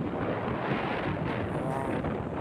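Strong wind roars continuously against a fast-moving vehicle on the road to Barangay Binakas, Lubang, Occidental Mindoro, a loud, dense buffeting rumble with no talk.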